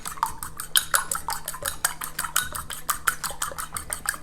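Two eggs beaten in a bowl with a utensil, rapid rhythmic clinking and tapping strokes against the bowl, close and continuous with no talk.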